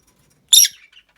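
Pet birds in a breeding cage give a single short bright chirp, close and clear, followed by a faint trailing call in an otherwise quiet room.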